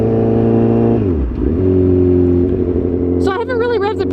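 A 2008–2011 Honda CBR1000RR 1000cc sport bike engine revs hard and loud, dips briefly, then climbs again to a high, strained whine. Talk mixes in near the end.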